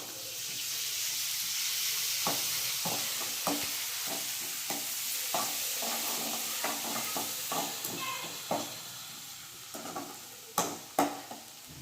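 Ginger garlic paste, green chilies and curry leaves sizzle steadily in hot oil in a pan, with a ladle repeatedly stirring and scraping against the pan, the clinks growing louder near the end.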